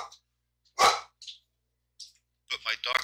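Dogs bark indoors in a few short, sharp bursts separated by silence. A voice comes in at the end.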